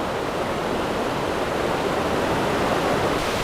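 River water flowing under a footbridge at the Dells of the Eau Claire on the Ice Age Trail, a steady, dense rushing roar that stays even and close throughout with no voices.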